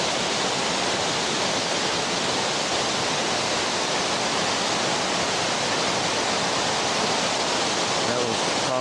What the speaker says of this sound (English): Nice river all the way down.